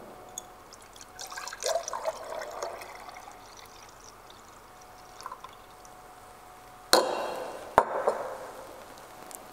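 Liquid inoculant being poured into a separate container while preparing a seed treatment solution, with a soft trickle and splash, a sharper pour near the end, and a faint clink of the vessel.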